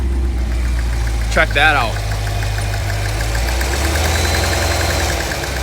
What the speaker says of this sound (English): Nothing like a little bit of a knock in the engine here